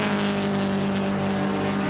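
A touring race car engine drones loud and steady as it passes during the 2014 Gerry Marshall Trophy race, a sustained throbbing note with no voices.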